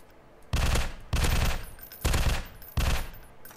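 Gunfire in the tactical shooter video game Escape From Voyna: four loud, sustained bursts of automatic fire, each about half a second long, separated by short quiet gaps, with no talking.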